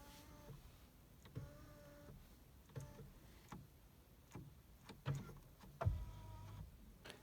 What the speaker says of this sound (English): So you can adjust your steering wheel electronically.